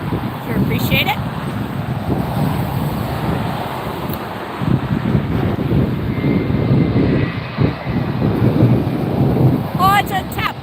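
TAP Air Portugal airliner passing at LAX airport, a loud continuous jet roar rumbling steadily throughout and swelling slightly near the end, with no speech over it.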